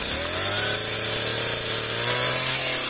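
A chainsaw engine fitted with a choke and half-choke setting runs loud and steady close by, holding a continuous buzzing drone with no pauses for the whole stretch.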